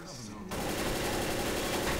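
Assault rifle fire in the Left 4 Dead zombie shooter bursts in after a half-second of quiet game ambience, a loud, continuous rapid stream of shots lasting to the end.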